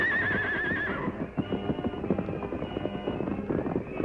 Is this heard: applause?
no